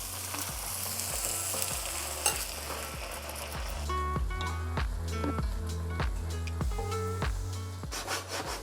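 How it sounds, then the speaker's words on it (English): Garlic mushrooms sizzle loudly in a hot pan after white wine goes in, a dense close hiss with scraping and stirring strokes repeating throughout. "turn your heat up and add your white wine."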